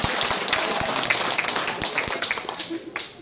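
An audience claps at a mass wedding ceremony at an Indonesian office in Taipei. The applause is a dense, fairly loud patter that fades toward the end, with voices mixed in.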